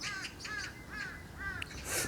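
A crow caws four times in a steady series of harsh, repeated calls outdoors on a hillside behind the speaker, fairly distant, over a soft hiss of background noise, with no talking.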